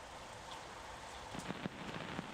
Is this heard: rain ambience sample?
yes